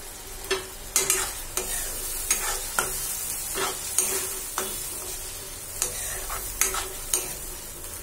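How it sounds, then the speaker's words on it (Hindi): Tomato, garlic and ginger puree frying in oil for a dhaba-style egg curry, a steady close sizzle broken by repeated spoon-stirring scrapes and clicks at an irregular rhythm, with no voices. "और अब इसे हम तब तक फ्राई करेंगे जब तक ऑयल सेपरेट नहीं हो जाता है।"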